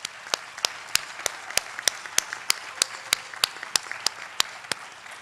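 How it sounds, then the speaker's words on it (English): Sharp, distinct claps at a commencement ceremony ring out in a steady rhythm of about three per second, sounding like a few hands rather than a full crowd, against a quiet background. "So please join me in a round of applause thanking them for their work to get to this point."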